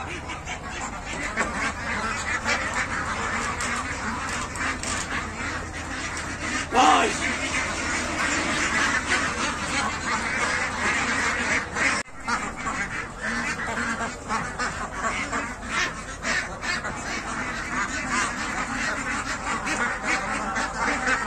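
Ducks quack repeatedly on a farm, a steady chorus of calls close by, with a brief louder burst in the middle and voices talking now and then.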